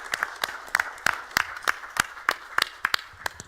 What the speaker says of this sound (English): these guys deserve a big round of applause